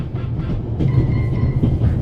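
A train rolls steadily in The Raven adventure game, giving a close, continuous low rumble with a soft rhythmic clatter of wheels and a faint metallic whine. No voices are present.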